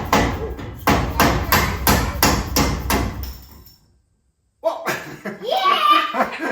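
A rapid series of loud, regular hammer strikes, about a dozen in a row, then a brief silence followed by excited voices and laughter.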